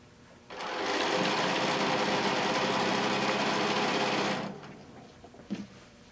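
Sewing machine stitching a quilt panel border, a steady fast mechanical whir running for about four seconds at close range before stopping, with a faint clunk afterward.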